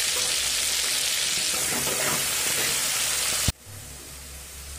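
Onions frying with salt and turmeric in a pan for a Bengali potato chicken dish, a loud, dense, steady sizzle that cuts off abruptly near the end, leaving near silence.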